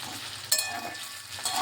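Boiled taro pieces fry in a pan with a steady close sizzle, broken by occasional scraping stirs.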